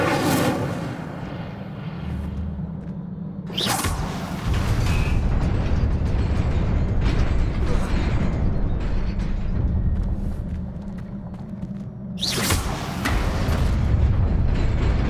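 A fire spell cast in Hogwarts Legacy bursts out twice as loud whooshing blasts, each followed by a sustained roaring rumble of flame, with no speech.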